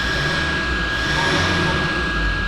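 A Toyota Prado 1KD-FTV diesel engine with a turbocharger fault, gently revved: a steady, dense roar with a thin, constant high whine running through it, close and fairly loud.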